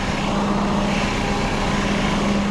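A 2005 Perodua Myvi 1.3 EZ automatic car engine runs at a steady idle, a loud, even, continuous hum with a constant low drone and no pauses.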